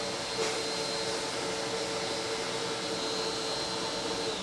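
A Eureka Airspeed Compact vacuum cleaner runs with a steady, loud motor whine and airy rush, constant from start to finish with no voices.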